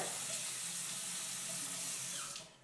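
Tap water runs steadily into a bathroom sink, a close, even splashing hiss that holds for a couple of seconds before being shut off and fading at the end.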